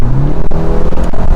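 BMW 4 Series Convertible engine revving at low speed in Miami, a loud, close, continuous rumbling growl with slight surges and no speech.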